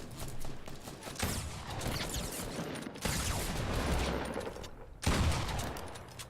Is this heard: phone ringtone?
no